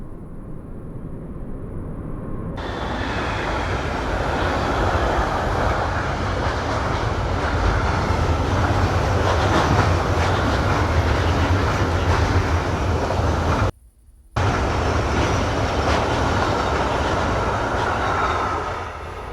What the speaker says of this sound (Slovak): Ide vlak.